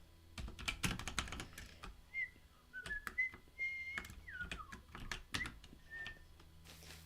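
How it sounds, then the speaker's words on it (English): A person whistles short, wavering melodic phrases that come and go, mixed with frequent loud computer keyboard typing and mouse clicks at close range. "Let me know if whistling sounds atrocious on the stream."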